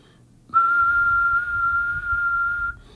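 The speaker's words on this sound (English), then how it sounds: "Hopefully you heard that whistle." A single steady whistled tone held evenly for about two seconds, clear and close, starting and stopping abruptly against a quiet background.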